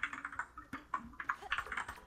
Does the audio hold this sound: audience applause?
no